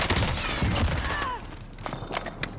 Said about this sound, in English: This was the pea shooter he was shooting at me with. LC-10